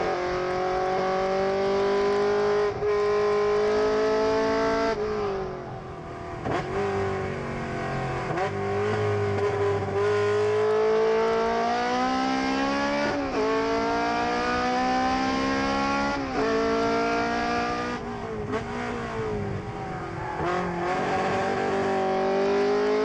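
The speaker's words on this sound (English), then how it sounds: "Tomo Gorman in that blue GD Subaru, as you were talking about, borrowed car, racing yesterday, racing all the time" Race cars at SpeedRing 2018, a Honda S2000 against a blue GD Subaru WRX, their engines loud and close, revving up and down through repeated gear shifts for the full length.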